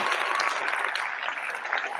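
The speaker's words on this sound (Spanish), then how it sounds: "le damos un fuerte aplauso a Julio." A crowd applauding loudly and steadily, dense clapping throughout at close range, with no voices over it.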